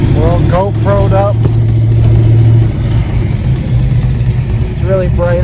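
A car fitted with a TKX manual gearbox swapped in place of a T5, driven on the road, its engine humming steadily under road noise, with a few brief rising whines and voices talking in the cabin.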